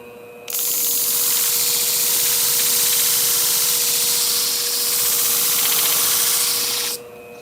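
A Tondeo German hair shear blade is sharpened on a higher-grit wheel or stone, giving a loud, continuous hissing grind. It runs for about six seconds with a steady high tone beneath and stops abruptly.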